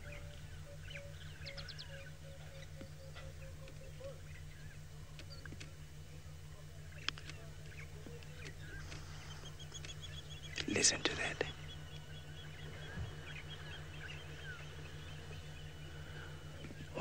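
Wild birds singing around a dam in an African safari setting, faint scattered chirps and a brief busier burst of calls midway, under quiet close speech and low background hum.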